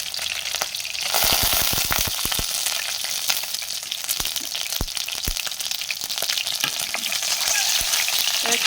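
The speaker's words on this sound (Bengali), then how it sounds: "ডিমগুলো হালকা ভেজে নিয়ে তারপর ভুনা করব" Eggs with a little turmeric fry in a pan, a steady close sizzle with sharp crackles and pops scattered throughout, loud and continuous with no talking.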